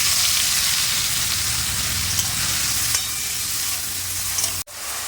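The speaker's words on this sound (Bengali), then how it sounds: "কড়াটা গরম হয়ে এসেছে, এর মধ্যে আমি সাদা তেল দিয়ে দিলাম। হলুদ মাখানো চিংড়ি মাছটা ভেজে নিলাম।" Turmeric-coated prawns frying in white oil in a hot wok, a loud, dense, continuous sizzle with a few faint clicks and a brief sharp dropout near the end.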